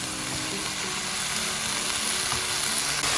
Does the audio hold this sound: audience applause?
no